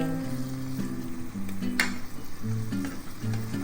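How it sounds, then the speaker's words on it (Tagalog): Vegetable broth bubbles in a pot, a close, steady seething with a fizzing sizzle, while a melodic tone hums underneath throughout. "Kumukulo na."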